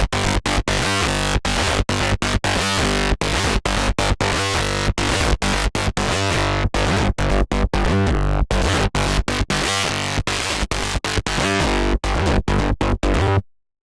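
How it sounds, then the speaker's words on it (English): A rough, aggressive bass patch built in the Hive synth roars loud and distorted, chopped into rapid stuttering bursts with sharp gaps, full and gritty for about thirteen seconds before stopping. "it's a very rough and aggressive bass"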